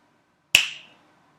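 One crisp finger snap, close and alone in silence, with a short fading tail.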